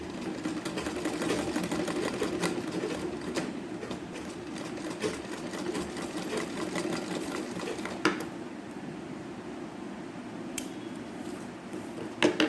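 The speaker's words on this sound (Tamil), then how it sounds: "இப்போ இது ஒரு சைடு ஸ்டிச் பண்ணியிருக்கோம், அடுத்த சைடும் ஸ்டிச் பண்ணிடணும்." A sewing machine stitches lace onto a blouse sleeve, running as a steady close whirring buzz through the whole stretch with a few brief clicks and pauses near the end. No one speaks.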